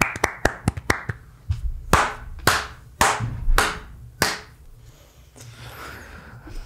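A handful of sharp hand claps on a podcast, starting as a quick run of crisp snaps and then slowing to a few louder, spaced claps before fading, close and dry with no talk.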